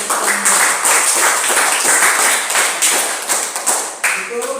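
A classroom gives a round of applause for students in a lesson on Indonesian independence, dense steady clapping that tapers near the end, with voices mixed in.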